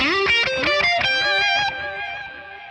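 An electric guitar solo played through a tape echo delay with a very long tape setting, fast distorted notes ringing out in quick succession, then a held note trailing off with echoing repeats.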